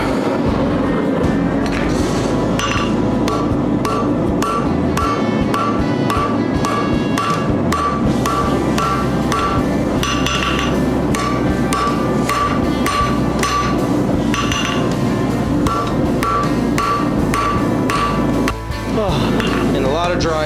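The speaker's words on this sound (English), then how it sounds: "I can start hitting it over the anvil and" Hot steel is hammered on an anvil while a wine corkscrew is forged and tapered, with rapid, loud, ringing metallic blows repeating in a steady rhythm throughout, close up and continuous.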